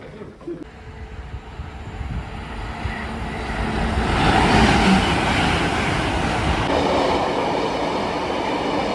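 A train rumbles through West Drayton station near London, its heavy rolling noise swelling louder midway and holding steady, with a faint rhythmic clatter.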